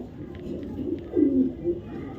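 A male racing pigeon from a club loft gives soft, low cooing calls at close range, with faint talk and background noise around it.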